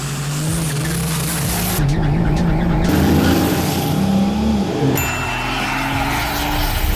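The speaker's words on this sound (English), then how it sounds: "This right here is our Cummins swapped Ford Ranger" A Ford Ranger pickup swapped with a 12-valve Cummins diesel and turbo runs loud and close, a steady rumbling drone that rises and falls in pitch. Talk and other noise sit partly under the engine.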